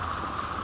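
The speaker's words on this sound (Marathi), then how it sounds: "रात्रभर पाऊस चालू आहे" Overnight rain keeps falling in a soft, unbroken hiss, steady and even across the moment, with no talking.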